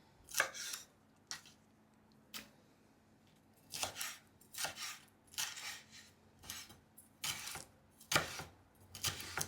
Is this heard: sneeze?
no